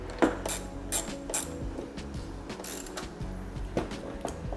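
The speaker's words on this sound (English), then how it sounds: "Don't tighten them too much, just snug them up so you don't strip out that plastic" A screwdriver snugs small T20 screws into plastic on a BMW 1-Series headlight, giving close, quiet ratcheting clicks and small mechanical creaks in short bursts, with no talking.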